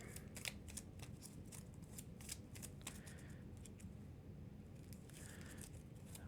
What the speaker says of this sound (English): So I gotta shuffle my deck.